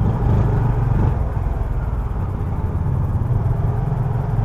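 Yamaha PG-1 motorcycle engine running steadily during a test drive, a continuous mid-pitched drone close by with no talk over it.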